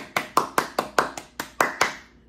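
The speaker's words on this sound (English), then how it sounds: "Give me a clap." One person claps hands nine times in a quick, slightly uneven rhythm, each clap sharp, close and loud with a short ringing tail, the last one softer, with no speech.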